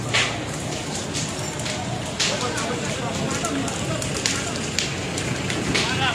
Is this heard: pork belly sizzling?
no